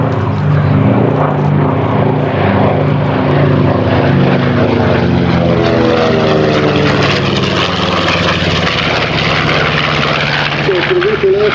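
A Red Bull Flying Bulls propeller airplane, the type featured in Catch-22, drones loudly and continuously overhead during a flying display, its engine pitch slowly shifting, with someone talking over it throughout.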